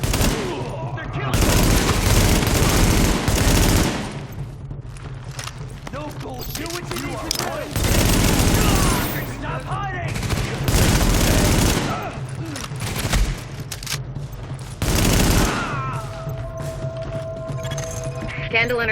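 Heavy gunfire fills a firefight in Tom Clancy's The Division: rapid automatic bursts come in loud waves every few seconds, mixed with clinks of gear and voices shouting over the shooting.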